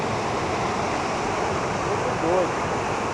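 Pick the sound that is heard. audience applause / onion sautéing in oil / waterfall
waterfall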